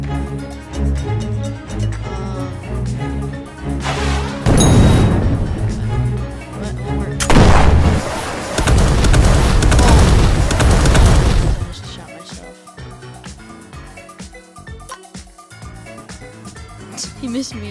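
Tank cannon fire in the Tank Heroes video game, heavy booming blasts with a long rumbling stretch amid game music and effects, loud and close.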